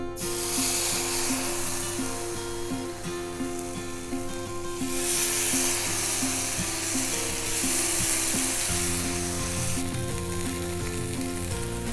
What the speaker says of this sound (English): So we're just doing this to sear the fish with the initial marination